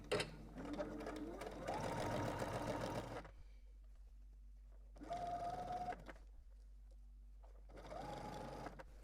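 A sewing machine stitches a sleeve hem in three separate bursts of fast whirring and rhythmic needle clatter, with short quiet pauses between runs.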